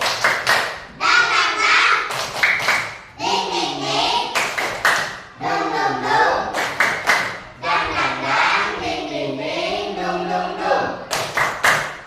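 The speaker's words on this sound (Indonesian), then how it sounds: "Tepuk semangat baru." A classroom of students performs a rhythmic clapping chant, bursts of group clapping and thumps alternating with chanted voices in a steady pattern, loud and close.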